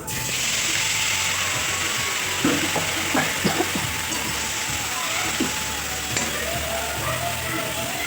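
Spices are ground with a steady, loud whirring hiss that runs throughout, broken by occasional faint clicks and rattles.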